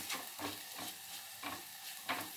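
Orange peel sautéing slowly in a pan with chili powder and salt, a spoon scraping and stirring in steady, regular strokes over a faint, quiet sizzle.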